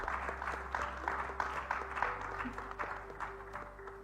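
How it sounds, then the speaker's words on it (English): An audience at a corporate CSR conclave panel gives the moderator a round of applause, a moderate, evenly sustained patter of many hands clapping in a hall. "Can we have a huge round of applause for that wonderful moderation?"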